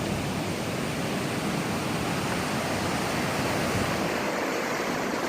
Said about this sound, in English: There is a lot of water. A lot of water coming out.